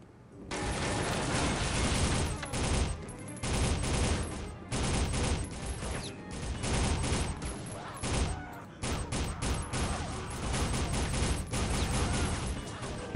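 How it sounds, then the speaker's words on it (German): Sustained gunfire from Soldier of Fortune, with loud, dense bursts of automatic fire and overlapping shots, clatters almost without pause for over thirteen seconds, close and harsh, with brief dips between volleys. "Irgendeiner schießt noch auf uns."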